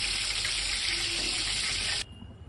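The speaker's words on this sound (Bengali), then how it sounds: "তেলটা আমি ঢেলে নিচ্ছি একটা পাত্রে।" Oil pours from a pan into a container in a kitchen, a steady hissing liquid stream that cuts off sharply after about two seconds, followed by faint room noise.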